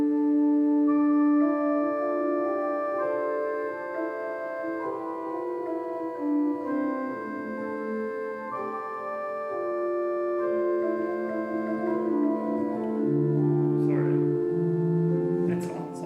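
A choral recording of the Gloria section Quoniam tu solus sanctus plays as sustained, slowly shifting vocal harmonies, steady and moderately quiet throughout, with a few faint clicks near the end.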